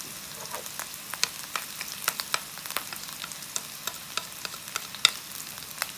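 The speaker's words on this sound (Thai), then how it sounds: "ผัดให้หอมนะครับ นี่เราจะผัดแห้งๆ" Chopped field rat meat being dry stir-fried in a hot pan: a low steady sizzle broken by frequent sharp clicks of a spatula against the pan at an irregular rhythm, close and fairly quiet, with no talking.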